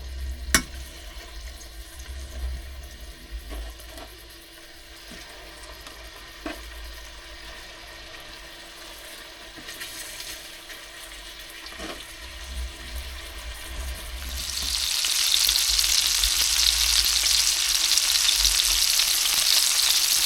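Steady frying of chicken in butter in a pan aboard a boat, with soft sizzling and bubbling throughout and a few light clinks, growing louder and brighter toward the end.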